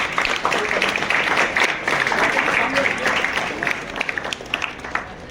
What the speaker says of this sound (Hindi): प्रथम तो एक बार सब लोग इसके लिए तालियां बजाएं।